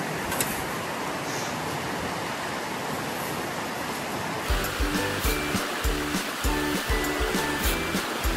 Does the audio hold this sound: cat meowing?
no